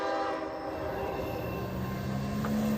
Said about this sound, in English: That is a Canadian Pacific locomotive.